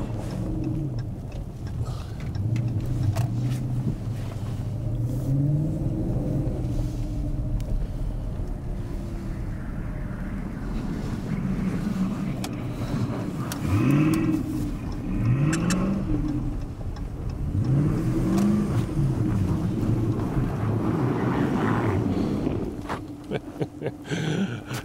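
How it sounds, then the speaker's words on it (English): A V8 all-wheel-drive police car on snow tires revving its exhaust in repeated rising and falling bursts, loud and close, with occasional voices in the background. "we thought that a V8 needed to sound like a V8"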